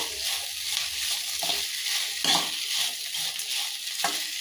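Okra fries with onions in hot oil in a pan, a steady close sizzle broken by scraping strokes as the pieces are stirred.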